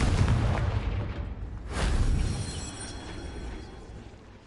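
A Confringo blasting spell in Hogwarts Legacy bursts into a deep, rumbling explosion that swells and fades over several seconds, loud and close with no speech.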